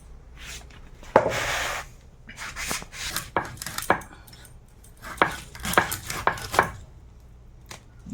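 Fish being chopped into small pieces on a board, a run of sharp, irregular knife strikes at close range, with scraping between some of the cuts.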